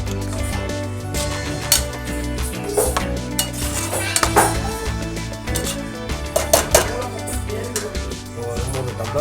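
Masala being stirred in a pot for broken-egg biryani, with a utensil scraping and clinking against the metal at close range in irregular bursts over a steady low background hum, with faint talk now and then.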